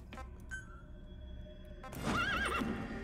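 After a few clip-clop hoofbeats, a horse gives a loud, wavering neigh that rises and falls, clearly in the foreground, in the game Metal Gear Solid V: The Phantom Pain.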